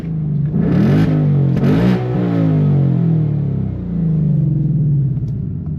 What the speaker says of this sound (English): So there's sport exhaust.